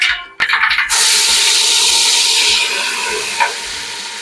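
Mustard seeds and a ginger-garlic-green chili paste hit hot oil in a pan for dhaba-style pav bhaji. A short clatter gives way to a loud, steady sizzling hiss that fades slightly over several seconds, with no talking.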